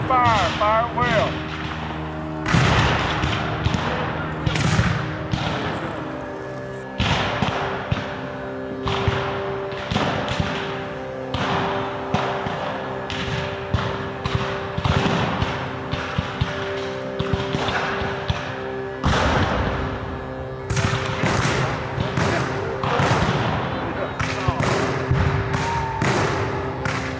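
Civil War musket volleys crack out in a dramatized battle, repeated sharp blasts and thuds scattered through the scene over shouted commands and battle noise.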